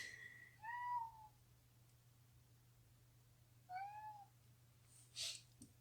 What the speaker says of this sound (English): I don't know if you can hear my cat